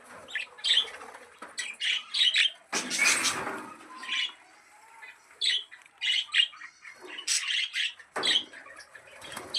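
A pair of budgerigars, one sitting inside a clay pot, chirp and squawk in repeated bursts, with sharp bright calls and short pauses, close and clear.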